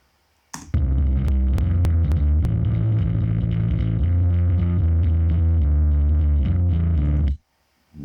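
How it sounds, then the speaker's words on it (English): Bass guitar played through a neural amp modeler with overdrive, sounding gritty and distorted as a sustained line of notes rings out loud and continuous for several seconds, then stops abruptly, with no talking. "we want to have processed sound, and we want to have some overdrive"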